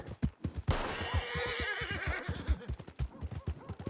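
A horse in a western video game lets out a long, loud whinny that rises and wavers over steady, thudding hoof clip-clop, with the hoofbeats continuing throughout.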